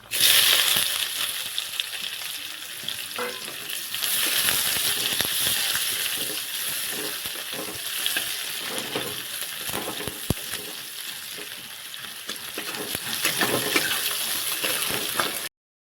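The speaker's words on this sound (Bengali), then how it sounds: "কেটে রাখা পেঁয়াজগুলো দিয়ে দিচ্ছি" Chopped onions fry in hot oil in a pan for an Aloo Fulkopi dish, giving a steady, close hiss of sizzling with scattered crackles and occasional stirring clicks throughout.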